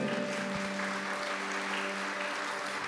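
Applause rises from a church congregation at a Catholic sermon, a continuous wash of clapping under a sustained organ-like tone, with no talk.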